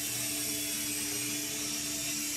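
A Syma Speed S5 toy helicopter flies indoors around a house, its small rotor and motor giving a steady, close, continuous whine with an even drone that holds throughout.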